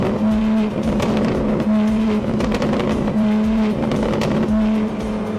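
A car engine revs hard in repeated surges while downshifting, its steady drone broken by sharp pops and crackles between gear changes, loud and close throughout.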